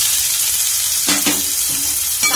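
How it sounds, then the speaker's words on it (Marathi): Chopped onions fry in hot oil in a kadai, giving a close, steady sizzle with brief stirring scrapes. "कांदा चांगला फ्राय करून घेते।"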